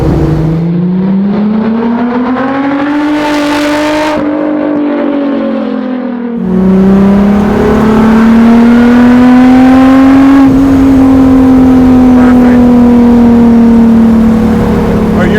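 A go-kart's mid-mounted VR6 engine revs loudly and close by, its pitch rising and falling in long sweeps, with a brief drop before it climbs again and holds.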